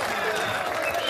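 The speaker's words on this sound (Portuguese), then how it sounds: "Salve de palmas." A brief, dense wash of applause on a podcast set, steady and fairly loud throughout the short moment.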